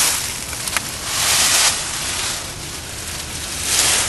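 Wind gusting outside a survival shelter built for twelve people, a broad rushing noise that swells and fades in slow waves, with a few faint ticks and no voices.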